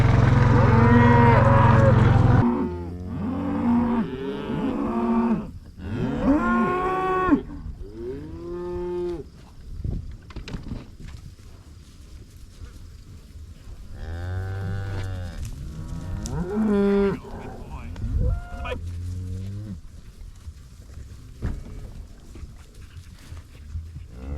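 Several cows moo repeatedly, long drawn-out calls overlapping from nearby and farther off, loud at times, with outdoor background noise between.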